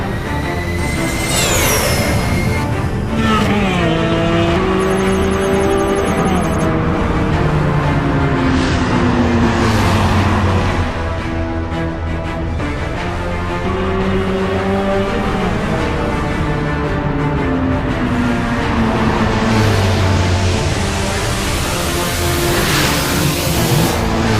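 A cartoon motorbike races through a tunnel, its loud engine whine continuously rising and falling in pitch as it speeds along, with no talking.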